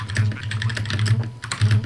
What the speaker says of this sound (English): Type. Stop typing!